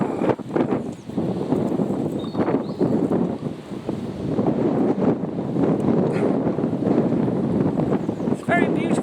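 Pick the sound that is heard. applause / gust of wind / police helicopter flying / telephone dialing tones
gust of wind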